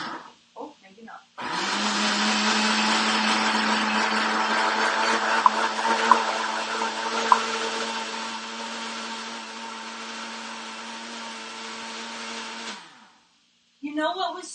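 A kitchen blender running on its smoothie setting while banana chocolate chip muffin batter is prepared, a loud steady whir starting abruptly, holding for about eleven seconds, then cutting off, with voices before and after.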